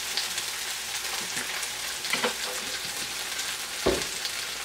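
Olive oil heats in a pan on a stove burner ahead of cooking an omelet, giving a steady, even sizzle with a few small crackles and one sharper pop near the end, with no talking.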